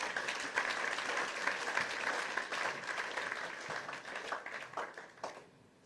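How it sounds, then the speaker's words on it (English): A large audience claps for themselves, dense sustained applause filling the whole stretch, loud and close, then thinning out toward the end. "Clap for yourself."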